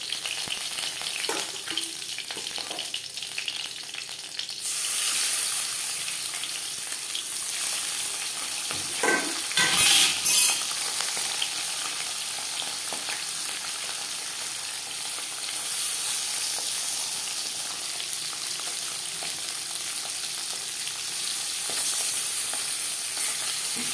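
Pabda fish fry in hot oil in a pan, a steady close hiss and sizzle throughout with brief louder spatters and stirring near the middle.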